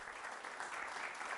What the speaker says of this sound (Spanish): Damos un aplauso a la palabra en esta mañana en el nombre de Jesús